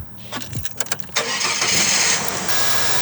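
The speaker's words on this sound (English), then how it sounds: "It's time to give the car a good old start" A Ford Falcon AU car engine, just fitted with iridium spark plugs, cranks with a few rough turns, then catches and settles into a steady, loud idle close by.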